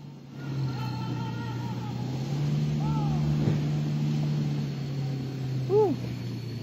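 A Mitsubishi Triton truck engine holds a steady low drone as it pushes through extreme off-road terrain on a Papua expedition route, rising slightly in pitch midway, with brief voices heard over it.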